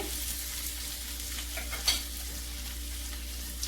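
Shrimp sizzle in a hot frying pan with a steady, even hiss while being stirred, and a spatula scrapes softly now and then, close and continuous with no talking.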